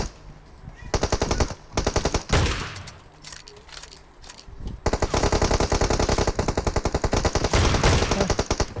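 Rapid automatic gunfire in PUBG Mobile, loud sustained bursts of machine-gun fire with a short lull in the middle before a long continuous volley resumes.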